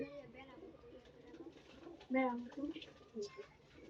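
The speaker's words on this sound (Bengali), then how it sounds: "ওই যে কবুতর মারামারি লাগছে" Pigeons coo and scuffle close by as they fight, with a burst of flapping and calls midway, while people chatter in the background.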